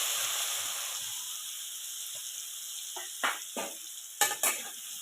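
Ginger, garlic and coconut hitting hot oil with cumin seeds in a pan, a steady close-up sizzle and hiss, followed by a few sharp clinks and scrapes of a utensil near the end.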